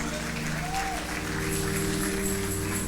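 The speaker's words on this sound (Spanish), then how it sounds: "Denle un aplauso a Cristo Jesús" A church congregation claps during a sermon, a dense wash of applause blended with steady held tones from instruments.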